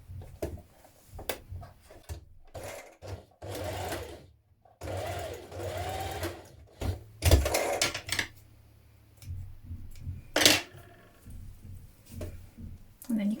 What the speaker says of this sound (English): I'm going to join those with a small seam like this and then carry on stitching